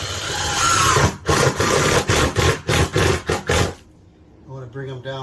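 Power drill driving screws into wood on an old bathroom floor, a series of short loud whirring bursts with pauses between each, followed by a moment of quiet and then a voice speaking.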